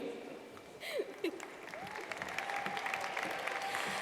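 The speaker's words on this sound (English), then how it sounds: "Let's give one more round of applause to all of our delegates for their hard work over the past couple of days." Delegates at a state convention business session applaud their colleagues, a steady patter of clapping across the hall that builds slightly, with a few voices rising over it.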